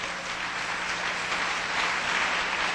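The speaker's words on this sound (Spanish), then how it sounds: "Dele un aplauso a nuestro Dios." A church congregation applauding in praise of God, a dense, steady wash of many hands clapping together at close range, with no speech over it.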